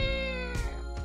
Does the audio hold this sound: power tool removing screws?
no